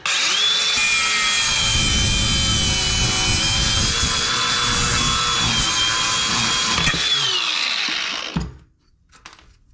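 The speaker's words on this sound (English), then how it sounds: "it's just spinning, so I'm gonna need to grind it off" Power grinder cutting off a spinning nut on a bolt, a loud continuous high-pitched grinding whine held for about eight seconds before cutting out, followed by faint clatter.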